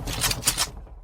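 A short burst of rapid gunshots, four or five sharp cracks in quick rhythm, close and fairly loud, ending abruptly in near silence.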